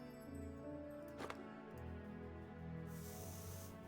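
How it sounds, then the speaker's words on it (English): A juice sprayer in a video game spraying onto a cake: a faint, steady hissing spray near the end, following quiet tonal game sounds and a short burst of noise. "Spraying on the cake as well, just to piss him off."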